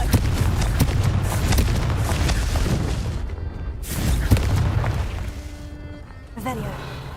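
A Confringo blasting spell from the Hogwarts Legacy video game erupts in loud booming explosions over dense game noise, with several heavy blasts and a rumbling tail before a brief quieter pause.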